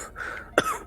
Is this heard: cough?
yes